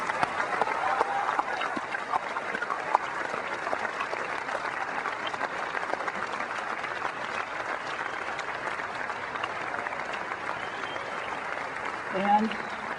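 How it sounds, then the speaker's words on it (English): An audience at a Macworld New York 2001 keynote gives a sustained round of applause, a dense clapping roar that holds steady for the whole stretch and swells slightly near the end. "giving them a round of applause"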